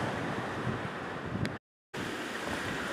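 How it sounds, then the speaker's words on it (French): Strong wind at Boca do Risco, Madeira, roars loudly against the microphone on a mountain bike ride, a constant heavy rush that cuts out abruptly to silence briefly before returning. "C'est tellement de vent. Je sais même pas si vous m'entendez."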